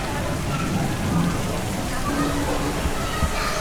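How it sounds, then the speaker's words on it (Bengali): Heavy rain pours steadily at Dakshineswar Kali Temple in Kolkata, a dense, loud hiss of drops on surfaces, with faint voices murmuring underneath. "এত বৃষ্টি হচ্ছে কোনো দিন এত বৃষ্টি হয়নি এর আগে প্রচণ্ড বৃষ্টি হচ্ছে"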